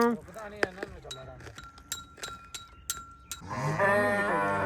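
Goats and other livestock on a farm bleat in short, scattered calls, mixed with light metallic clinks, before a person starts talking near the end.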